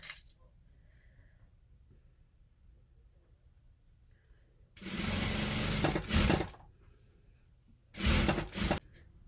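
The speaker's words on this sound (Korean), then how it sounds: "트위트 원단을 재봉해 보니까 재봉 자체는 다른 원단들에 비해서 그렇게 어렵지 않죠" A sewing machine stitches tweed fabric for a Chanel-style jacket, starting up after a quiet stretch with a loud, steady whirring run, a short stop, then a second shorter burst of stitching close by.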